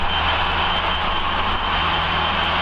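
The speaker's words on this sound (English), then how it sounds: "So full power, pull back on the stick and round, but this time the engine has just driven us through." A light aircraft's engine running at full power during a pull-up and turn, a loud steady drone that fills the whole span without a break and with no voices over it.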